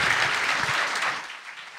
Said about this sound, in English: Round of applause, the entire voice cast.